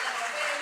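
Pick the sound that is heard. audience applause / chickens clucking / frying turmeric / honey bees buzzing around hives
audience applause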